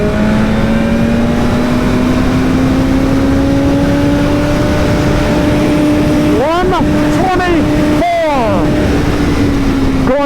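A 2022 BMW S 1000 RR sport motorcycle with its stock exhaust, riding downhill: a loud, sustained engine drone under heavy wind rush, with a few quick rev blips and gear-shift dips near the end.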